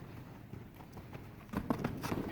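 Hooves of an excited mustang shuffle and step on the ground in a few quiet clops, growing a little louder toward the end, with faint background noise.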